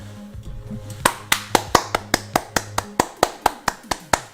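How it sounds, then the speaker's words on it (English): After a brief bit of talk, one nearby person claps steadily and evenly for card winners on a NASCAR betting show, with about a dozen crisp, regularly spaced claps. "Let's get a round of applause for everybody who just took home this beautiful Chase Elliott Hooters Racing Hero card."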